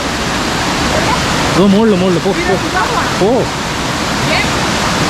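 Dense, roaring rush of the Dudhsagar waterfall fills the scene as a loud continuous wash of white noise, with a voice speaking briefly over it in the middle.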